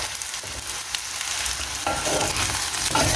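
Durian seed mixture being stirred in a pan with chili, red onion, pandan leaf and Maldive fish chili flakes, a steady scraping stir over a low sizzle throughout, close and continuous with no talking.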